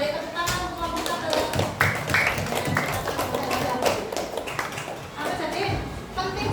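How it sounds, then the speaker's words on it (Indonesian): A class of schoolchildren claps for a student group after its presentation, a dense, steady patter of many hands that runs throughout with a few children's voices mixed in. "Kita beri tepuk tangan untuk kelompok 1"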